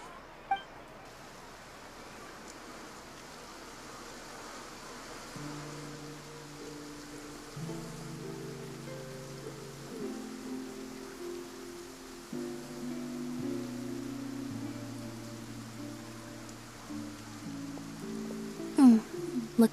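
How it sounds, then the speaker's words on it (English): Soft rain patters steadily in the Fontaine region of the video game Genshin Impact, a faint continuous hiss beneath quiet background music. "Looks like rain."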